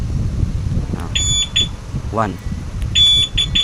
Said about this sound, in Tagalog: Pangatlong attempt, alarm na yan.